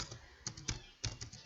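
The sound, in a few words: typing on a computer keyboard in Word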